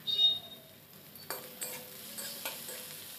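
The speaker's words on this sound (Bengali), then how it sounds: "পেঁয়াজটা ভাজা প্রায় হয়ে এসেছে" Chopped onion frying in a pan while a Bengali fish-and-aubergine curry is being made, with a soft steady sizzle under several sharp clinks and scrapes as a spoon stirs against the metal pan.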